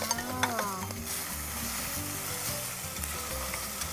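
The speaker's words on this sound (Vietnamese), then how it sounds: "Tiếp theo thì chúng ta sẽ cho phần đuôi bò vô xào." Oxtail stir-fried in a pot with garlic and beef fat, giving a loud continuous sizzle and crackle with occasional stirring scrapes, close and steady, with no talk over it.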